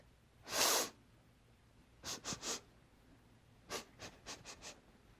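A person imitates someone sniffing: one loud sharp inhale, then quick clusters of short snuffly sniffs, close and alone against quiet background.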